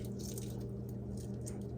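A spoon works under the shell of a boiled egg, making faint wet squishing and small cracking patters close by over a low steady hum.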